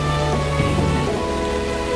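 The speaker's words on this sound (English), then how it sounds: "It was pouring again, as if time hasn't passed since then." Heavy rain pouring down steadily, a dense continuous hiss of drops hitting surfaces with a low tonal hum beneath it.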